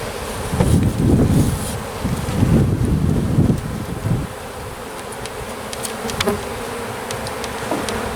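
Honey bees buzz around an open hive during an early March inspection, a steady insect drone with louder swells as bees pass near, mixed with light wind noise and a few clicks.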